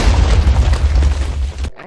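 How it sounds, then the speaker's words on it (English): An end crystal blows up during a Minecraft crystal PvP fight, a loud booming blast with rumbling low end that holds for over a second before cutting off abruptly. "Rocket crystal, able to pop 2 totems at once or send someone to Jesus"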